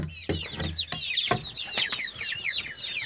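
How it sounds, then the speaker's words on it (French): Pekin bantam chickens, a mille fleur bantam rooster among them, cluck and chatter close by in a poultry yard, with several overlapping short calls and bursts. "Un coq bantam de Pékin 1000 fleurs."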